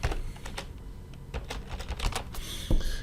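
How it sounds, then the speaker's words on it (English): Fingers type a short burst on a computer keyboard, light irregular key clicks at close range over a low background hum, with no talk. "So what if I type the word Loyola?"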